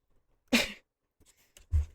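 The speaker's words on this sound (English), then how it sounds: "I like get into the reading and it's immediately a sneeze comes on." A person sneezes: a sharp, loud burst of breath, followed a second later by a shorter, lower burst of breath, with near silence around them.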